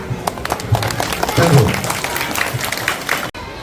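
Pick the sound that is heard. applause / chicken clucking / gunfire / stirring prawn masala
applause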